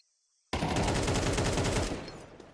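Rapid automatic gunfire from a competitive video game match, bursting in loudly after a half second of silence and rattling continuously for about two seconds before tapering off.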